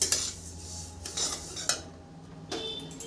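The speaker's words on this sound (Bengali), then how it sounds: "30 সেকেন্ড ভেজে দেখাচ্ছি।" Sesame seeds dry-roasting over medium-low heat, stirred with a metal spoon against the pan in several scraping, clinking strokes at close range, with no voices.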